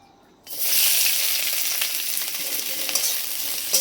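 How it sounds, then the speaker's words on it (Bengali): Onion dropped into hot oil in a wok, an abrupt burst of loud sizzling after a brief quiet moment that then holds as a steady crackling hiss with faint stirring. "পেঁয়াজটা একটু ভেজে নিয়ে"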